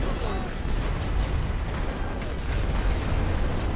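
Artillery barrage firing in The Great War, a World War I strategy game on the Western Front, as a dense, continuous rumble of distant booms and bursts held at a steady level throughout.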